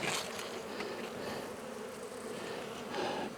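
Honey bees buzz steadily and close by during a spring hive inspection, a dense continuous drone with a few individual bees passing near.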